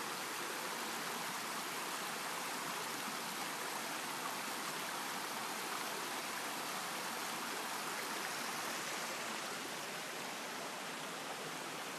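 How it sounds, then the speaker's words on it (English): A small waterfall feeding a little stream in New Hampshire gives off a continuous, even hiss of rushing water, soft and steady with no other sounds. "let's take a break and look at this little cute waterfall"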